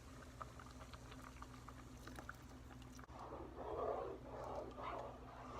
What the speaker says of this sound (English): Gonna let that simmer really low for about 3 or 4 minutes